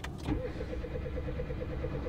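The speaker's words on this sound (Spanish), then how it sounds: "Creo que está arrancado el coche, ¿eh?" A car engine idles steadily and close by after a brief opening knock, its low rhythmic pulsing continuing evenly throughout with no voices.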